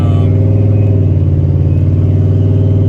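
Turbocharged Ford Mustang engine during a short test ride, a loud, close, steady low rumble with a constant droning tone and no clear rise in revs.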